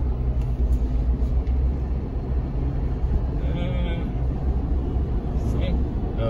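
A 2008 Jeep Wrangler Unlimited engine runs with a loud, steady low rumble as it accelerates. A muffled voice is faintly present in the background.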